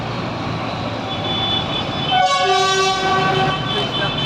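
Tractors in a farmers' protest convoy rumble through central London in December 2024. A loud, sustained horn blast sounds for about a second over the steady engine and traffic noise.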